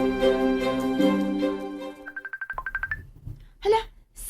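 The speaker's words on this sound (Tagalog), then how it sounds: "Hala, cellphone nag-ring." A cellphone rings with a short electronic tone pattern of rapid repeated beeps, following sustained music and ending with a brief voice reacting.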